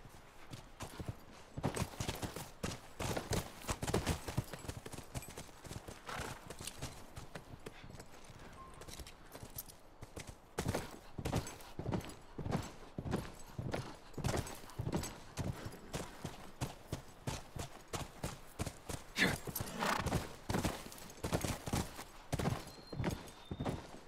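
Horse hooves clip-clopping steadily in The Last of Us, a close, continuous run of sharp rhythmic knocks on ground at a ranch, with a brief neigh possible and no talk over it.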